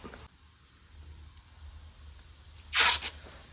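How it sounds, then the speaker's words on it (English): Masking tape pulled back off the primed body of a 1979 Plymouth Volare wagon, a short sharp tearing rip near the end after a quiet stretch. "Now we'll just pull this tape back"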